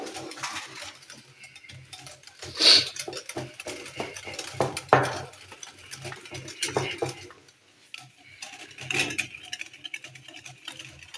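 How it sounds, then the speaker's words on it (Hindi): A whisk works cream and sugar in a bowl with quick, rhythmic scraping and clinking against the sides, close and fairly loud, with a few stronger knocks and short pauses along the way. "हमने इसको अच्छे से फेंटना है ताकि चीनी जो है वो हमारी अच्छे से घुल जाए"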